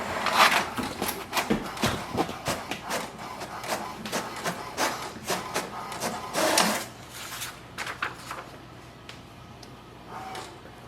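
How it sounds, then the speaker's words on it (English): An HP Deskjet 2900 printer printing its password information page, with a run of irregular mechanical clicks, whirs and paper-feed clunks, fairly quiet and close with no talking. "Now we have to print the password of the printer."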